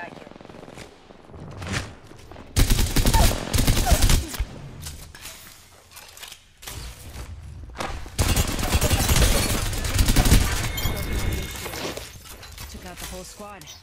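Gunfire in Apex Legends: loud, sustained bursts of automatic fire in two long stretches, with scattered single cracks between them and a voice talking over the shooting.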